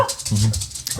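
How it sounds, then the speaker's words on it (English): A corgi barks in a studio, a few quick, close yips and barks packed into about a second, loud and fairly sharp. "She's our corgi. She's here in studio tonight."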